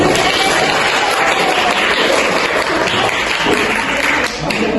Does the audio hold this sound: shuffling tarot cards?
no